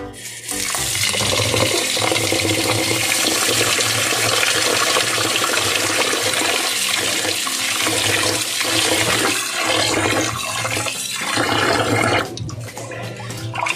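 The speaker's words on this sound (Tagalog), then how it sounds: "Huhugasan po muna natin yung ating malagkit na bigas or yung ating glutinous rice." Glutinous rice being washed in water for biko: a steady loud rush of running water and sloshing, continuous and close for about twelve seconds, then easing off near the end.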